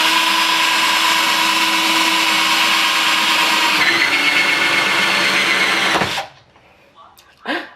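A power drill whines steadily and loudly for several seconds while drilling through a plastic bucket, changing pitch as it bites through, then cuts off into quiet.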